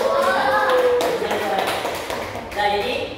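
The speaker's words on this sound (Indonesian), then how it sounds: "Tepuk tangan dulu." A live audience bursts into hand clapping at a religious lecture, a short, fairly close round of applause that fades within a few seconds, with some voices mixed in.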